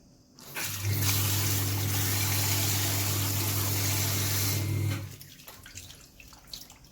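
Kitchen tap water runs steadily for about four seconds while salad ingredients are rinsed, a loud close gushing stream that starts and stops abruptly.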